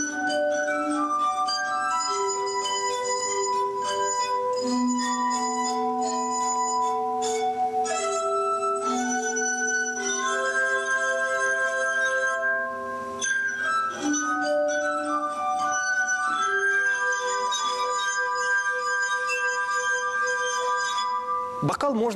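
Wine glasses played as a glass harp, tuned with water: clear ringing sustained pure tones shifting from pitch to pitch in a flowing melody, some notes overlapping, loud and steady throughout with no voices.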